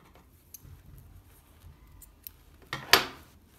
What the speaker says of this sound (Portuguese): E posso cortar o fio.